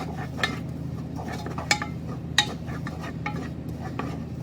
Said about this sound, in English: So just a wooden spoon to move that around a little bit, make sure it doesn't burn